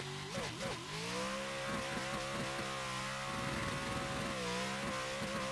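A car on a shakedown lap in a racing game holds a loud, continuous engine note that shifts pitch as it revs and eases off through the gears.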